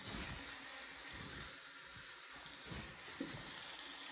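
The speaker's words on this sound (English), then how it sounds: "first we're gonna put this beautiful steak right here in the center of the charbque grill, directly over that red cooking element" Steak sizzling on a charbque grill, set in the centre directly over the red cooking element with vegetables around the edges, giving a steady close hiss and crackle with occasional pops and no talk.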